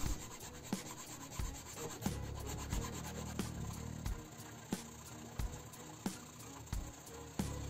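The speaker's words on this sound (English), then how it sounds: "I'm just grabbing a rasp and lower it down a little bit" A rasp files down a thick part of an airsoft rifle's selector plate in steady back-and-forth rubbing strokes with regular scraping pulses, close and continuous.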